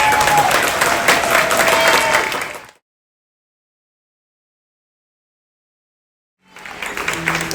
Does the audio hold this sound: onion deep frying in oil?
no